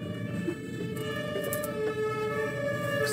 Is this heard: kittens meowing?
no